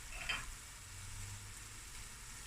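Spices sizzling as they hit hot oil in a pan for a mince and cauliflower curry, a brief bright burst at the start that settles into a quiet, steady frying hiss with a low hum underneath.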